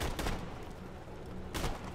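Gunfire in Borderlands: The Handsome Collection, two short bursts of shots roughly a second and a half apart, fairly loud over a steady game background.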